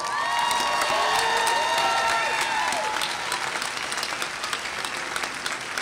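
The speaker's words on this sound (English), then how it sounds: "I congratulate you and applaud you" Large graduation ceremony crowd applauding master's degree graduates, dense sustained clapping with cheers and whoops at the start, staying loud and continuous throughout.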